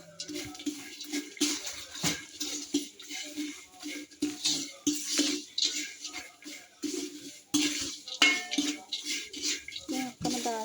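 A papadam mixture being mixed with salt in a bowl gives irregular scraping, clinking and wet stirring noises in uneven bursts, fairly close, with occasional faint talk.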